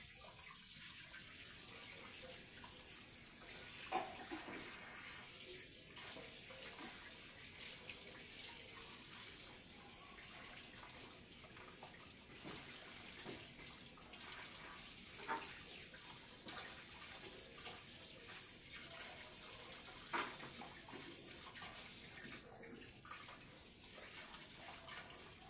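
Tap water runs continuously as chicken meat is rinsed in a home kitchen, a steady bright splashing rush at moderate level with small irregular spatters from handling; no voices.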